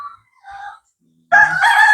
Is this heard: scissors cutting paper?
no